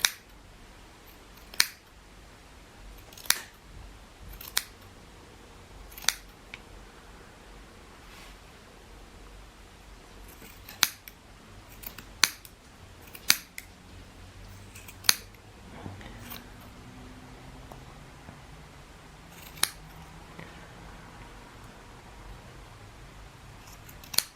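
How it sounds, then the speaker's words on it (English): Scissors snip the edges of a yarn pom-pom, giving sharp, separate clicks at uneven intervals over a quiet, hissy background with no talking. "giving this little pom-pom a haircut. Okay, so just cut along the edges."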